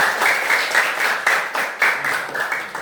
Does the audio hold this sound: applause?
yes